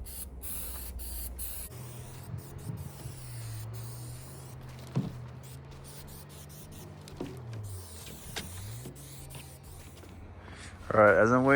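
Spray paint hissing onto truck fenders for a 2021 Silverado 4500 4x4, in several short bursts with pauses and a steady low hum underneath, ending with a louder rustle.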